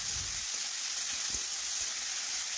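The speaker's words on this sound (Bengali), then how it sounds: "একটু নাড়াচাড়া করে সবজি একটু ভেজে নিচ্ছি" Vegetables frying in oil with tomato, salt and ginger-cumin paste make a soft, steady sizzle throughout, faint and even with a few low stirring knocks.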